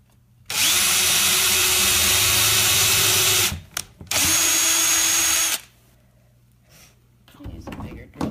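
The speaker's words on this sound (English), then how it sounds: "I'll use a bigger drill bit for this." Power drill boring a hole for a DIY silverware holder, two long steady high-pitched whirring runs close up, separated by a brief pause, then quiet handling noise afterward.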